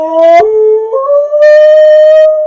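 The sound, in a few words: husky-German Shepherd and Rottweiler-Shepherd mix dogs howling at reunion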